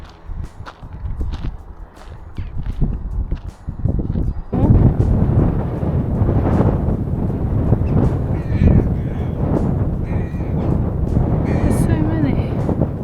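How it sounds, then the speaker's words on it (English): Crows caw repeatedly at Horsbere Nature Reserve, scattered calls over footsteps and wind buffeting, with a person talking at times. "Don't know if you can see all the crows."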